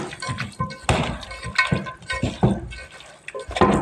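Water splashes and gurgles into a pot of chicken 65 mixture with salt and turmeric in uneven bursts, close and moderately loud, with faint clinks and no talking.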